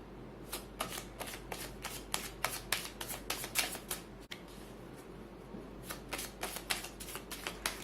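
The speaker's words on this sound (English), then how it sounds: "I'm live shuffling." Tarot cards being shuffled in rapid riffling bursts, a steady run of crisp flutters with a short pause midway, close and fairly quiet, no voices.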